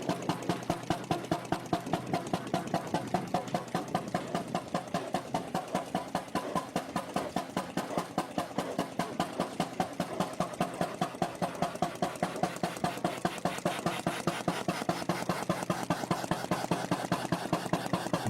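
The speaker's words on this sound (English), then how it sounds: "type of engine features a hot bulb ignition system, which preheats a metal chamber to ignite the fuel air mixture." Antique Primo hot bulb stationary crosshead engine running after a cold start, a steady rapid chugging beat with even, closely spaced pulses, loud and close throughout with no talk.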